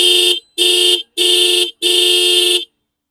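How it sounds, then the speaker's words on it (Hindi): Dual horn of a TVS Apache RTR 160 Race Edition motorcycle sounding four loud, close honks in quick succession, the last one held longest, alone with no talk. "हॉर्न, हॉर्न सुन रहे हो?"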